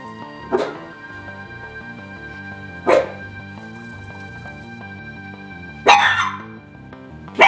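A dog barks three times at spaced intervals, loud and close, with sustained tonal background music underneath; no talking.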